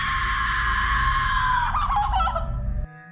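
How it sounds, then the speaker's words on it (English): A woman's high, sustained scream, loud and continuous for nearly three seconds, wavering and breaking near the end, set against a constant low rumble before cutting off abruptly. "She screams."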